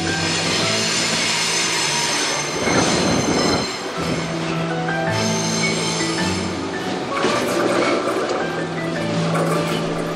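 Canyon tourist train on the mountain line between Bunbong and Seungbu stations in Bonghwa, North Gyeongsang: a steady close rumble of rolling carriages with high metallic wheel squeals and clanking rail noise throughout, loud and continuous.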